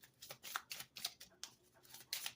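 Tarot cards shuffled by hand: a quiet, close run of papery riffles and slaps coming in short uneven bursts.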